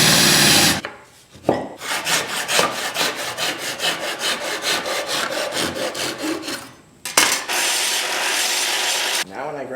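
A tool grinds scale off a steel knife blank in rough, rhythmic scraping strokes. The sound is loud and close, with a couple of short pauses between bursts of grinding.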